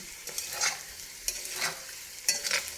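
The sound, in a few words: potatoes being stirred and fried in a pan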